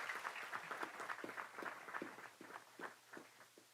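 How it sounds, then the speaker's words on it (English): Scattered clapping from a small group at a county board of supervisors meeting, faint and somewhat distant, an uneven patter of hands that gradually thins out. "Let us give a round of applause to all these departments."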